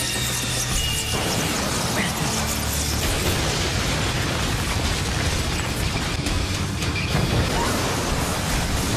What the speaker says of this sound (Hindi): Fire style, fireball jutsu.